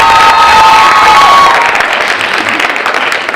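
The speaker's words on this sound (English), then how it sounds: "give her a round of applause" Loud applause and cheering from a youth forum audience, dense clapping mixed with shouts and whistles, near and full, gradually thinning out.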